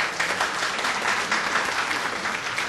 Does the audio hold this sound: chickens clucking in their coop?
no